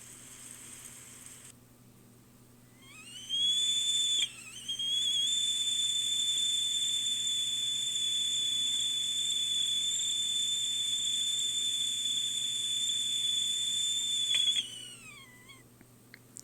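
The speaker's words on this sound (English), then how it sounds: "A noise like water boiling in a teakettle." A steady, piercing high-pitched whistle like a teakettle boiling rises in, holds for about ten seconds with a brief dip, then slides down and fades, over a low background hum.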